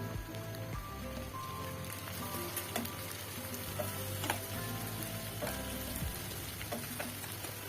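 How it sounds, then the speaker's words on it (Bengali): Chopped garlic, onion and green chili fry in mustard oil in a pan, a soft continuous sizzle with scattered crackles and faint clinks, fairly quiet and steady throughout. "এখানে রসুন কুচি, পেঁয়াজ কুচি, কাঁচামরিচ একসাথে দিয়ে দিলাম। ভালো করে একটু ভেজে নিব।"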